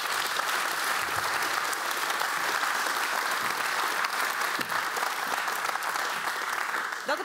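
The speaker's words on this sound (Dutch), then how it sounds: "Dat applaus was voor de vraagstellers nog één keer." Audience applause for the people who asked questions at a talk on political culture and mediacracy, a dense, steady clatter of many hands filling the whole stretch and fading slightly at the very end, with no talk over it.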